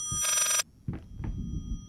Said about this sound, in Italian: Dovrebbe essere un telefono.